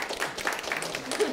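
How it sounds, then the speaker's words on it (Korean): Audience applause at a live-commerce show-host lecture in a hall, a dense, steady wash of clapping from a crowd, fairly loud and even throughout with no voices over it. "박수."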